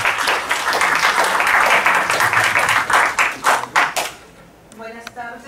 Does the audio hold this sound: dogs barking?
no